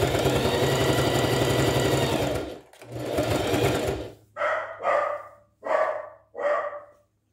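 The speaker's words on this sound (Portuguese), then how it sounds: "E vamos costurando aqui no pezinho da máquina." A sewing machine stitches a triangle border onto a dish towel in two steady runs of rapid mechanical whirring, close and loud, followed by several short bursts of stitching with brief pauses between them.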